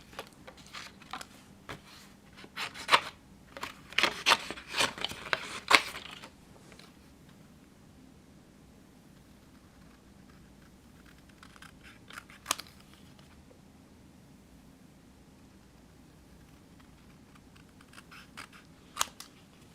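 Scissors cutting out card pieces: a cluster of quiet crisp snips and paper rustles early on, then mostly near-silence with a few isolated clicks.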